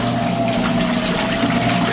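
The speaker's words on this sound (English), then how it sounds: "If I had a bigger load, I would fill it with more water." Water pours steadily into the plastic tank of a Superpop portable washing machine, a continuous close gushing and splashing with a low steady hum beneath it and no pauses.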